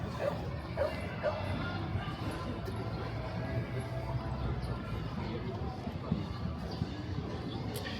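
Dogs at a park in Parque México, scattered yips and barks at moderate distance over a busy outdoor background, with people talking nearby.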